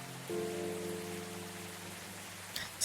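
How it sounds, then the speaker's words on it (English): Rain in the video game Coffee Talk, a soft steady hiss of rainfall running under a low background music drone, fairly faint and continuous. "It's raining."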